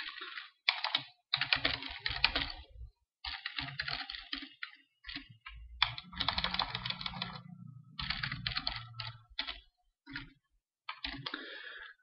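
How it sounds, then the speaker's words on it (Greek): Someone types a search query on a computer keyboard, quick bursts of close key clicks and clatter broken by short pauses, with a few heavier thumps mixed into the rhythm. "Εμείς θα συνεχίσουμε να πληκτρολογούμε."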